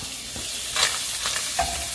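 Butter melts in a hot pan, hissing and sizzling steadily and fairly loud, with a few brief utensil scrapes and bubbling pops rising over the frying.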